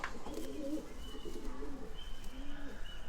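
Racing homing pigeons coo in a loft, a few soft, low rolling coos rising and falling at close range over a faint steady background, with no talk.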